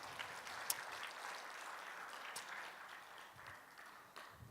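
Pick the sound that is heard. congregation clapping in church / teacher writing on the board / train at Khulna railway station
congregation clapping in church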